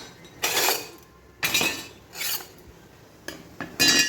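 Metal pots, pans and utensils are gathered in a home kitchen, clinking and clattering in five short bursts separated by quiet pauses, close and fairly loud.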